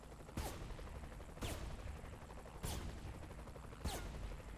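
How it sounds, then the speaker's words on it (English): Sniper rifle fire in the Saints Row: The Third video game, four sharp, evenly spaced shots about a second apart, each a crisp crack with a short tail, over a low game background with no talk. "I'm just gonna shoot the people with things over their head"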